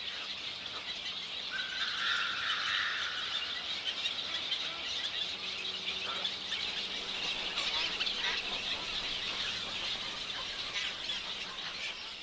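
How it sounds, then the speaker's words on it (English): Glossy ibis calls squeal and chatter within a mixed wading bird colony in Myanmar, a steady, faint, distant chorus of overlapping cries lasting throughout with no voices. "one of the other wading bird neighbors in the mixed colony, the glossy ibis"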